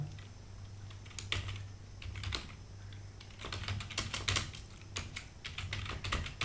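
Fingers type on a computer keyboard while entering text into an Excel spreadsheet, giving quick irregular bursts of clicky keystrokes with short pauses over a low steady hum.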